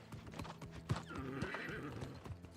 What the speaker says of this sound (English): I can definitely go on my horse.